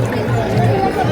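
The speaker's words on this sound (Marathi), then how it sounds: "पण गर्दी बघा किती आहे" Crowd of pilgrims and onlookers at a palkhi procession on the wari pilgrimage, a dense steady hubbub of many voices chattering close around, continuous with no single voice standing out.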